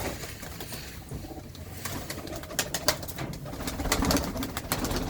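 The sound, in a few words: pigeons in a loft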